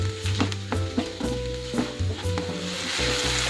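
Tomatoes softening and sizzling in a pan for anda ghotala, a close steady frying hiss broken by repeated rhythmic stirring scrapes and taps of a utensil on the pan.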